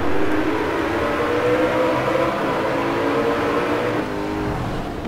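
A Koenigsegg One engine in Forza Horizon 4 drones and revs steadily for several seconds, loud and close, easing off slightly near the end.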